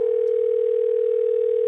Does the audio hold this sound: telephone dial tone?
yes